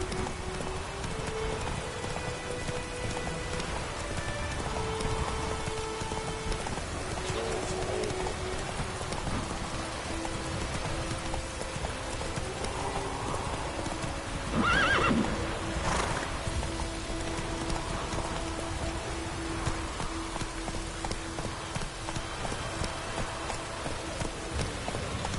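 Geralt's horse Roach in the Witcher video game, hooves clip-clopping at a run through steady rain, the rain hiss continuous and loud with the hoofbeats mixed into it, no neigh standing out.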